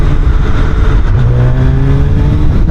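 Engine of a 2025 Suzuki Hayabusa, a 560-pound motorcycle, heard while riding: a loud, close, steady drone that rises in pitch as it accelerates, over heavy wind rumble.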